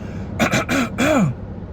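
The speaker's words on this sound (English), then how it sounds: "Let me clear my throat" A voice clears its throat in a few rough, guttural bursts, close and fairly loud, ending with a drawn-out rasp.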